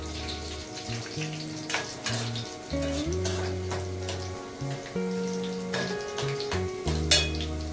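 Green chilies frying in hot oil in a pan before peanuts go in: steady close sizzling with spatters, stirring and clinks of a utensil against the pan, no voices.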